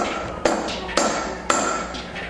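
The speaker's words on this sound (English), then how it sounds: "Using a brass hammer or aluminum hammer," A brass hammer drives a steel pilot pin into a punch holder, three sharp metallic taps evenly spaced about half a second apart, close and clear.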